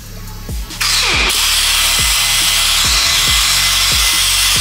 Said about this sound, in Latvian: mēs slīpējam pirmo špakteli nost.